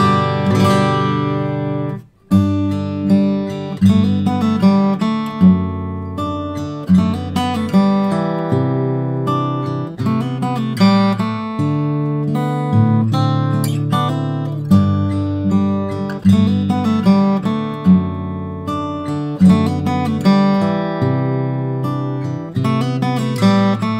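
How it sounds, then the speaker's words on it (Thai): A 2009 Martin 000-28MEC acoustic guitar played solo, ringing strummed and picked chords and melodic lines in a steady flowing rhythm, close and full with no voices. "Martin Triple O 28 MEC ตัวนี้เสียงจะเป็นยังไงลองฟังดูครับ"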